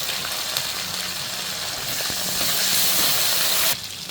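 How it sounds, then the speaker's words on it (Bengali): Loud, steady sizzling of shrimp frying with onions in hot oil, with a hissing swell near the end that suddenly drops off; no talking. "আমি পেঁয়াজের সাথে চিংড়ি মাছটা একটু ভেজে নেব দিয়ে দিলাম চিংড়ি মাছ"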